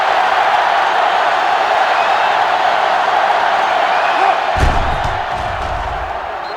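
Stadium crowd in NCAA Football 06 roaring steadily at a college game, Troy at South Carolina, with a dense continuous wash of cheering and a brief thump near the end before the noise eases slightly.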